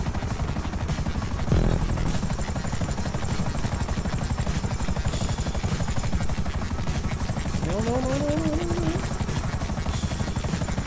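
Helicopter in the video game GTA V, its rotor giving a continuous loud rhythmic chop that fills the whole stretch, with a brief thump and a short rising tone partway through.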